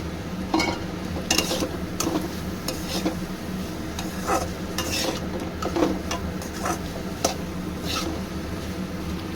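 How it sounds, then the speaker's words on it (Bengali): Potatoes stir-fried in a spice paste in a pan, with a continuous close sizzle under repeated scraping strokes of a spatula, at a steady rhythm. "এবার আমি আলুগুলো দিয়ে দেবো দিয়ে একটু কষিয়ে নেবো"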